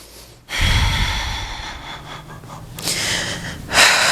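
Strong, close breaths during a classic Pilates mat session, a long forceful inhale followed by an audible exhale and another sharp breath at the end, loud and breathy with no talking.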